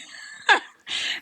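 Someone clears their throat close by: one sharp rasping burst, then a short pause and a longer, breathy scrape.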